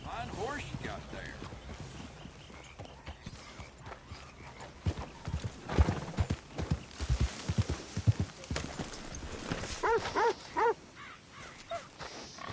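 Horse hooves clip-clop along in a Red Dead Redemption 2 game scene, irregular steps under ambient game sounds with brief bird calls, and voices speak at points.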